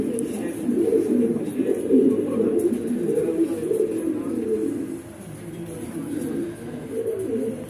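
Imported Lahori and King pigeons coo in a loft, many soft throaty coos overlapping in a steady, close chorus throughout.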